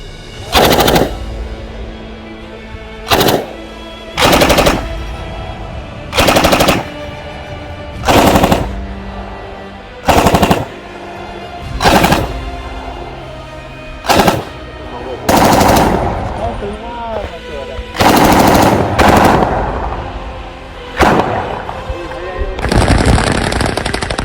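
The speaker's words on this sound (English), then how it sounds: "Test fire!" A machine gun test-fires in repeated loud bursts, each a short, sharp volley separated by brief pauses, close and dominant with faint chatter between.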